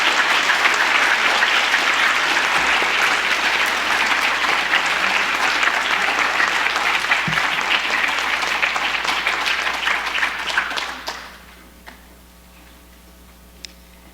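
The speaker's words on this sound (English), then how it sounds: "Could we get a round of applause for the 2025 National Honor Society inductees?" A large audience applauds at a 2025 National Honor Society induction ceremony: loud, dense, steady clapping that fills the hall for about eleven seconds, then stops abruptly, leaving near silence with one faint knock.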